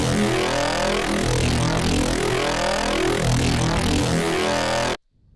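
Wide growl bass patch from an NI Massive synth, thickened with a doubler effect, roaring steadily at full loudness with dense gritty harmonics for about five seconds before cutting off abruptly.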